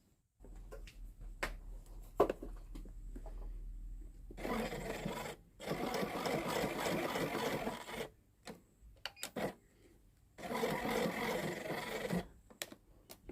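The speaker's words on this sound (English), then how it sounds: "And now we're gonna sew the waistband to the skirt" A sewing machine stitches a waistband onto a box-pleated skirt in close, quiet surroundings: three sustained whirring runs of stitching, with clicks and handling noises in the pauses between them.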